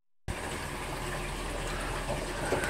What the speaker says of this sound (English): You can see all that water just running down the overflow.